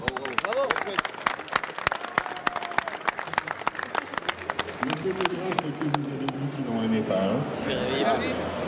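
An audience at the AGECOTEL 2020 event applauds for Les Moulins Forichères with dense, fast clapping that stays steady, then fades under crowd chatter and someone speaking.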